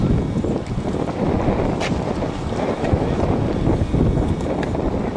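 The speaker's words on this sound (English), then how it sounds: "It's a little windier here." Wind buffets the microphone at an outdoor gathering in Seattle, a steady, loud, rumbling roar that fills the whole stretch with little letup.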